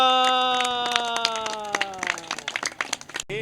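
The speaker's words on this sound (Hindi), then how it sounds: "तालियां।" Scattered clapping for a child's correct answer at an Independence Day quiz competition for kids on 14 August, sparse and uneven, starting under a fading chime and growing busier toward the end.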